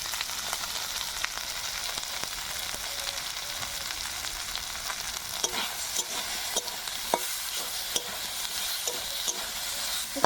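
A spice paste of ground chili, cumin and coriander with salt and turmeric sautés in a pan for a katla fish curry, giving a steady close sizzle broken by scraping spatula strokes and scattered sharp clicks.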